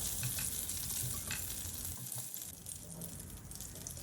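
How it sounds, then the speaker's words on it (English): Black mustard seeds and curry leaves crackle in hot oil for a Kerala fish curry, a steady bright sizzle with scattered popping and stirring, fairly close and without talk. "we will add few black mustard seeds or rye. We'll let this crackle for a while."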